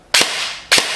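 Two sharp, loud shots from an E&C G28 Stryker airsoft DMR with upgraded internals and an electronic MOSFET, about half a second apart, each a crisp snap with a short tail.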